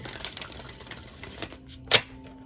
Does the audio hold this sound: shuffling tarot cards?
yes